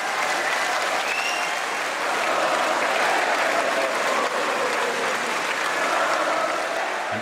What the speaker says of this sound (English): A cheer just for coming on stage.